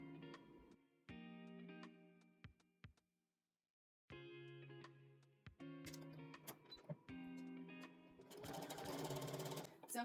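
A sewing machine stitching the edge of a fabric coffee koozie runs in close, steady whirring bursts, stopping briefly near the middle and then resuming with short back-stitch runs and clicks.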